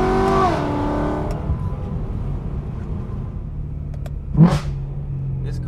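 A tuned BMW E93 M3 convertible with a new exhaust, an 8600 rpm V8, barks a rev that drops away, then idles with a low rumble before a short sharp blip near the end, loud and close.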